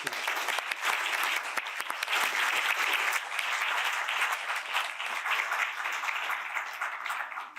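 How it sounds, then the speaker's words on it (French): Sustained applause from a conference audience at a closing session, dense and steady clapping throughout with no talk over it, tapering slightly at the end. "j'aimerais que nous puissions le remercier par des applaudissements qu'il a largement mérités"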